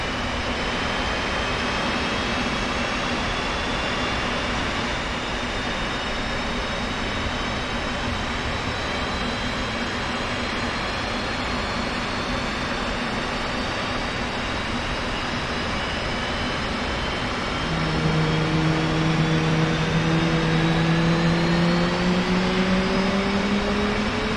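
Jet engines of an F/A-18C in the DCS flight simulator whine continuously, high tones slowly gliding, with a second engine spooling up and rising in pitch near the end, loud and steady.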